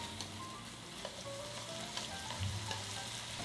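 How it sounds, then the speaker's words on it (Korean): Seasoned beef and garlic stir-fry in an oiled pan over high heat, producing a soft, continuous sizzle with light scraping stirs. "불을 강불로 올리고 마늘이랑 같이 볶아주세요."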